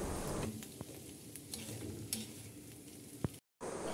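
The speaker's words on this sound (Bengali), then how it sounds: "আমি করলা ভাজিটা একটু লাল করে ভেজে নেব" Bitter gourd (karela) fries in a pan over medium heat, giving a soft steady sizzle with occasional stirring clicks and scrapes, close and alone, with a brief dropout near the end.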